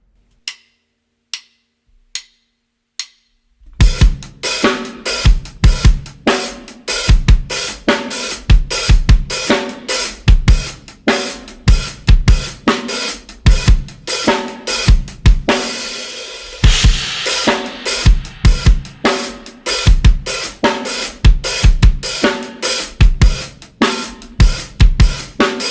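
A drum kit plays a groove at a slow tempo, opening with four soft clicks as a count-in before loud, steady kick, snare and cymbal hits carry a repeating pattern throughout.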